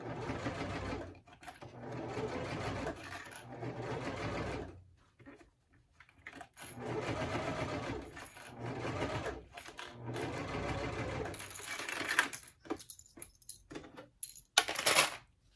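A sewing machine stitches around the curves of a blue Calla Boronia bowler bag, running close in several steady bursts separated by short pauses, with a few light clicks near the end.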